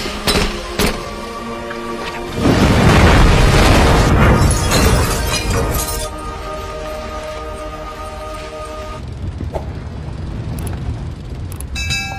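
A bomb blows apart a building in a war film: a loud, broad burst swells for a few seconds, then gives way to crackling, shattering debris and a long rumbling tail.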